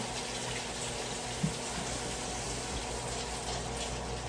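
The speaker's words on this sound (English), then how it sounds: "I'm gonna rinse the asparagus off." Kitchen tap running steadily while fresh asparagus is rinsed under it, a constant moderate wash of water with one brief knock partway through and no talk.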